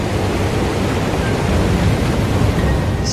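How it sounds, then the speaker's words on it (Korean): Broad, steady roar of tsunami waves surging ashore into a coastal forest, a continuous loud wash of water and wind-like rumble with no voices. "Tsunami comes in."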